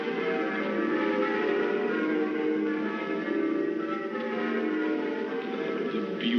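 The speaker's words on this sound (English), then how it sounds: "Bells, oh, very, very bells." Church bells ring continuously in a scene from the 1951 film Scrooge, a dense, steady peal of overlapping chimes at even loudness.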